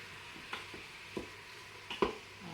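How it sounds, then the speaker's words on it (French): Sliced onions get stirred in a Cookeo cooker, a spoon scraping the pot in soft, irregular strokes over a faint sizzle, quiet and close. "je mets à l'intérieur mes oignons préalablement émincés. Donc, je mélange encore un petit peu."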